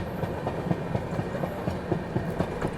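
An Ahmedabad–Gorakhpur Express rolls past the Sarnath Express, which stands waiting at the outer signal near Varanasi Junction. A steady, fairly close rumble carries a regular clickety-clack of wheels over rail joints throughout.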